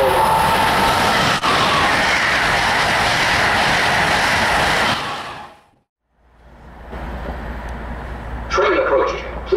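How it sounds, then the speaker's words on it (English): A train rumbles loudly through Readville station on an evening with steady roaring noise that cuts off abruptly, then a low hum returns and an automated announcement voice speaks near the end. "Train approaching."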